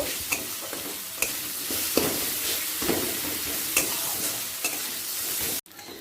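Spices, sugar and salt stir-fried in a pan for a Bengali green pea curry: a steady close sizzle with repeated spatula scrapes and clicks against the pan, running throughout before stopping abruptly near the end.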